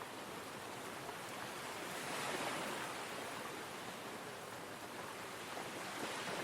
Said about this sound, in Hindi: दरिया में एक पानी की बहुत बड़ी लहर आई